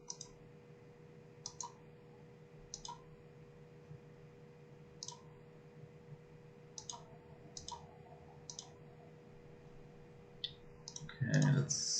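Mouse clicks while operating Optitrack motion-capture software on a computer: about a dozen quiet, crisp single clicks spaced irregularly over a low steady hum, ending in a brief scraping shuffle.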